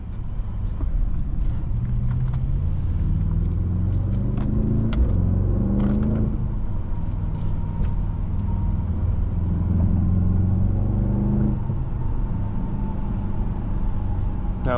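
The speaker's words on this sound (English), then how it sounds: "I love the sound from that V8." A 2024 Mercedes-AMG GLS 63 V8 drives along, its engine giving a steady, loud low rumble throughout with a slight swell in revs partway, no talk over it.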